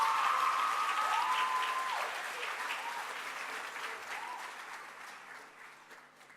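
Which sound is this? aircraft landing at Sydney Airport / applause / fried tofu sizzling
applause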